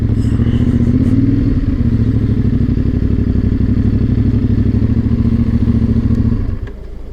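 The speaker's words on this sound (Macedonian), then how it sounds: "само кај да го паркирам моторот" A motorcycle's engine runs loud and close at a steady idle with a pulsing throb, then quickly winds down and falls quiet near the end as the bike is parked on a roadside stop.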